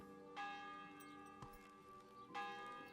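A church bell tolls in Kingdom Come: Deliverance, two loud ringing strikes with long humming decay, about two seconds apart, with no talk.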